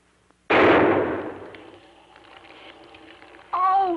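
A single loud gunshot cracks close by as a shot is fired into a wall, its sharp burst ringing and decaying over about a second, followed by a voice speaking.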